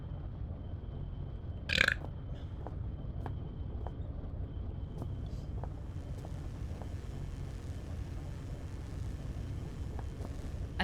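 A short, loud belch from the video game Penumbra: Overture bursts out once near the start, then fades into a steady low rumble of game ambience with faint scattered clicks.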